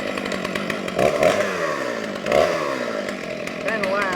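A chainsaw roars loudly and steadily as it cuts through wood, its pitch rising and falling with the load.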